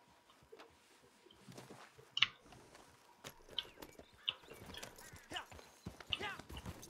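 Horse hooves in Red Dead Online, irregular clip-clop steps at moderate distance with occasional sharper knocks and a faint bird call, against a quiet background.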